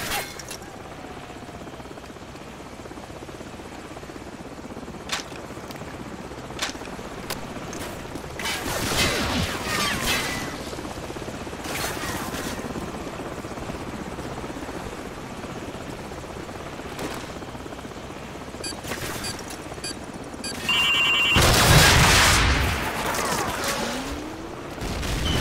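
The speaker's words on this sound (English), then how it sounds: "grab another Stinger and fire again" Helicopter rotor drone over scattered gunfire and a loud rocket launch with a burst near the end, from a Stinger missile fired at a helicopter in Call of Duty 4.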